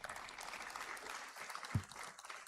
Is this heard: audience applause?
yes